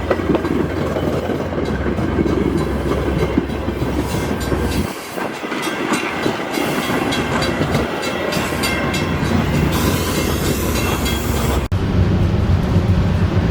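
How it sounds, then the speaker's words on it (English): A CN manifest freight train made up of hopper cars rolls past close by, a continuous loud rumble with rhythmic clickety-clack of wheels over rail joints throughout. "We have a CN manifest going by. And it looks like it's all hoppers."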